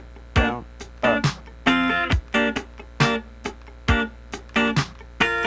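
A slow funk rhythm guitar part fretted on the 2nd and 3rd strings, played as a repeating pattern of crisp chord stabs and percussive muted strokes, close and alone without speech.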